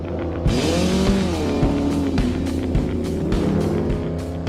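Beach buggies drive along the coast, a steady, loud engine rumble with rising and falling revs and several cars running together throughout.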